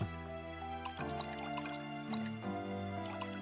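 Water ambience from the video game Ys: Memories of Celceta as a character swims, heard as steady liquid sloshing and dripping over a sustained musical score, with no speech.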